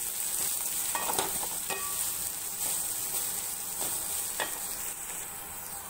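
A large onion sautés in a pan for a vegetable stew, giving off a steady close sizzle. A handful of scraping spatula strokes cut through it at intervals, and nobody speaks.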